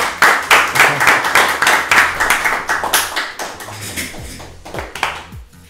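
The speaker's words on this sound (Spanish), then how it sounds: "Un aplauso, por favor." A small talk-show audience claps in a loose, uneven patter of individual hand claps that rises, then thins out toward the end.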